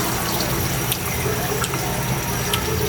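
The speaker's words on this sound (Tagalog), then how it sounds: "Tapos lalagyan natin ng tubig yan." Water is poured into a cooking pot holding pork cubes, making a steady splashing, running-water sound that continues throughout at a fairly loud level.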